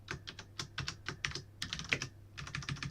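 Someone types code on a computer keyboard, with quick clusters of close, crisp key clicks, short gaps between bursts, and no voices.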